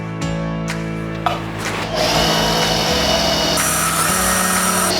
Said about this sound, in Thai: ทางช่างจะใช้ สว่านนะครับ ทดลองเจาะรูบนเนื้อเหล็ก ให้ดูนะครับ